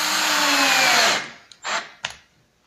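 A power drill drives 6 x 1-1/8 inch screws into a melamine floating nightstand: a loud, steady whir of about a second winds down, then two short separate bursts follow close by, with no talking.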